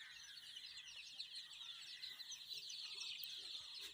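Golden chicks, three days old, clucking and peeping continuously at close range, a dense busy chorus of small chirps with no talk over it.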